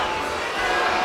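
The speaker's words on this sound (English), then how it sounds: "Crowd really getting on them now." Boxing crowd at the Nonito Donaire versus Toshiaki Nishioka fight, a dense steady roar of many voices filling the arena, swelling slightly louder partway through.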